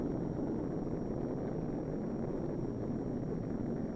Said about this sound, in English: the rocket plane is carried to high altitude by a large transport plane